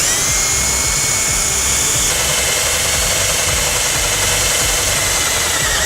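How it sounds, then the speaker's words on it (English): A power drill fitted with a 7/32 bit bores a hole through the sheet-metal body of a 2013 Ford E-150 van, giving a loud, steady high-pitched whine that shifts slightly in pitch partway through and runs for the whole stretch, with no talking. "We're going to take a 7/32 drill bit and drill a hole."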